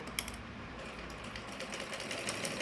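A sewing machine stitches the pocket of a kameez, a faint, steady mechanical whir with light rhythmic ticking and no talk.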